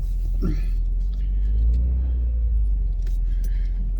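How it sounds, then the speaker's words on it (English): A Jeep engine idling and rumbling close by while the vehicle is moved out of the way, a steady low drone with a slight swell midway and no talk. "I had to move her Jeep out of the way"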